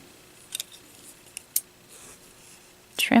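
Scissors snip crochet yarn to trim the tail on a crocheted cup cozy: a few short, crisp cuts close by, spaced apart against a quiet background.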